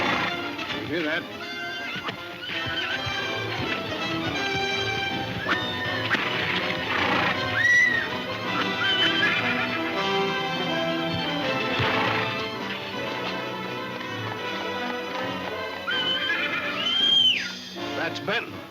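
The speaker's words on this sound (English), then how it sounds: "That's Benton calling his horse." A horse whinnies twice, once in the middle and again near the end, in an old Western film set in Death Valley, rising above a busy soundtrack of voices, music and hoofbeat-like clatter.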